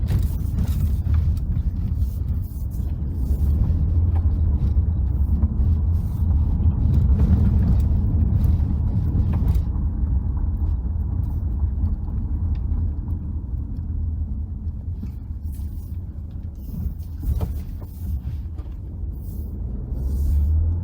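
A car rounds a corner on the Guido under-ring accelerator, giving a steady low mechanical rumble that holds for about twenty seconds and eases slightly toward the end.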